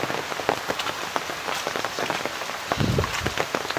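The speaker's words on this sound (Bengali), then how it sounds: "আমাদের এদিকে খুব বেশি বৃষ্টি হচ্ছে।" Heavy monsoon rain pours down steadily near a mosque, a dense close patter of drops hitting surfaces with scattered louder splashes and no voices.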